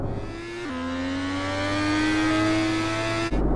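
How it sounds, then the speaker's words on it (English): A loud, steady car engine drones in Sakura School Simulator, its pitch stepping down briefly and then holding a sustained hum before cutting off abruptly near the end. "car has a cool engine sound."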